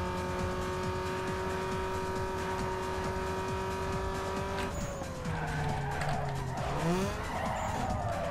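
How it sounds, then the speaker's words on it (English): A race car in Need for Speed Underground 2 skids with squealing tires through a chicane corner, a steady engine drone underneath, then a falling pitch as the car slows and slides, with no talking. "This time I started braking earlier. Almost slid into that second chicane corner."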